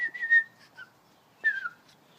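A galah gives two short whistled calls, each a clear rising-and-falling tone, close and distinct against near silence with a pause between them.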